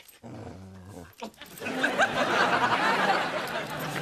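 A dog gives a short low growl at the start, followed by louder scuffling and rustling noise close by.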